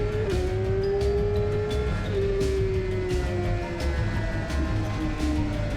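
A vehicle on Michelin Power GP2 tyres laps a race circuit, its engine droning steadily at close range with a shifting whine and brief bursts of wind and tyre noise.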